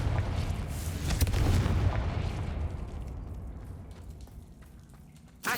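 Fiery spell blast from a wizard's wand in a fantasy action game, a loud booming burst that opens the clip and rolls off into a long crackling, rumbling decay, with a sharp new thump right at the end.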